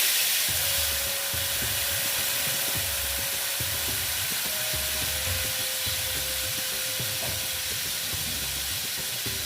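Kashmiri red chili powder cooks with a splash of water in a pan for an Afghani egg curry, producing a continuous bubbling, steamy sizzle with a faint steady hum underneath, no voices.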